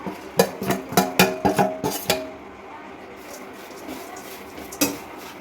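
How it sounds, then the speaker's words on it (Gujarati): Grated coconut is stirred in a pan over low heat, a spoon knocking the metal in a quick run of sharp scrapes and clinks, then a quieter stretch with one more clack. "હવે આપણે ટોપરું શેકી લેશું।"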